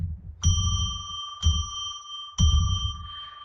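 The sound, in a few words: bell rung three times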